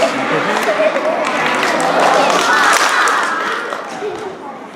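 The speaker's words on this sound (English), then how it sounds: "Let's give them a snap, crackle, pop cheer." A class of students at a school assembly giving a snap, crackle, pop cheer, a loud crowd of young voices with clapping and shouting that fades slightly toward the end.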